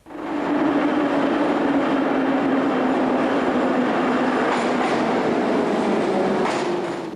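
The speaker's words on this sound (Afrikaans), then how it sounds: "trek die trein weg en versnel dan teen 'n geweldige tempo" A Moscow metro train pulls away and speeds up hard, a loud rising whine and rumble of the underground carriages with faint wheel clatter, steady and close.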